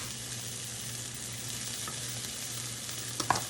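Breakfast frying in butter in a pan, giving a steady close hiss and sizzle with a low hum underneath and a few small pops near the end, no voices.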